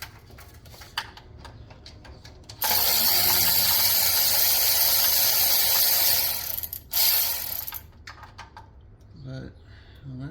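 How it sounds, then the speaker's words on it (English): A ratchet turning on oil pan bolts of a Dodge D-150, a rapid continuous clicking run for several seconds, preceded by a few scattered clicks and followed by a brief burst, close and fairly loud. "Back with a smaller ratchet for a couple of them"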